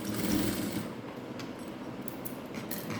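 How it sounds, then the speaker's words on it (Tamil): A sewing machine stitches fabric along a curved seam, a steady close whirring hum that runs continuously through the whole stretch with no pauses and no voices. "இந்த வளைவில் இப்படியே தைச்சிட்டு வாங்க"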